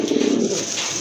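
A male pigeon gives a short, close, low throaty coo, a single warbling call with no talk over it.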